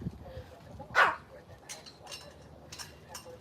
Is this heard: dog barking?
yes